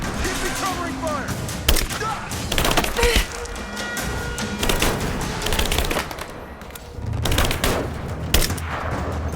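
Gunfire rattles in Rise of the Tomb Raider: loud bursts and single shots crack close by in an uneven rhythm over a steady din, with voices shouting in between.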